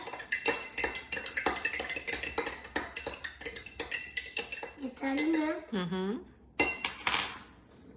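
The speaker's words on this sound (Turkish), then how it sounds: "Güzelce karıştırıyoruz." A metal spoon clinks and scrapes rhythmically against a bowl, stirring sugar into a bubble solution mixture, with brief talk near the end and a few louder knocks.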